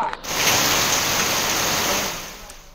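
Heavy, continuous rain during a prolonged downpour in Rajasthan, heard as a steady, dense hiss that swells quickly at the start, holds loud for about two seconds, then eases off slightly.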